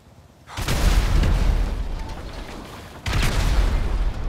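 A grenade explodes in Grand Theft Auto 5 with a sudden loud boom and long rumbling roar, followed by a second heavy blast that keeps rumbling to the end.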